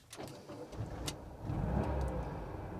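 A classic VW T2 campervan's engine cranks with a few uneven starter bursts, then catches and settles into a steady, rumbling idle that grows louder, heard close up with no talking.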